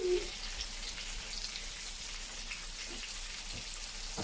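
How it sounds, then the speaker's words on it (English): Sliced onion and red pepper frying in leftover oil on a tawa, giving a steady, fairly quiet sizzle and crackle throughout with no talking. "I'm going to use the same tawa with some very thin sliced onion and some sliced red pepper"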